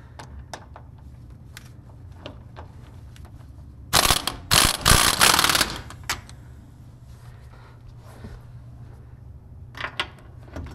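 A ratchet with a deep socket working on the rear wheel bearing of a 2005 Aviator, Explorer or Mountaineer, a quick loud burst of clicking ratchet strokes mid-clip between quiet scattered tool clinks.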